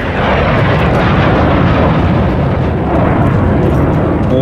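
A Phantom jet roars overhead in Rising Storm 2, a loud, dense, continuous rushing engine blast that fills the whole stretch without a break.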